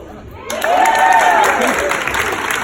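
Audience at a women's summit in Seattle claps and cheers in a burst that rises after a short pause, with broad noisy clapping and a few whoops sustained under light voices.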